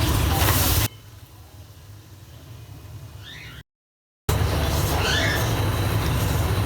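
Flour browns in melted butter in a pan with a steady, close sizzle and soft frying hiss, broken by a brief gap before the sizzling resumes.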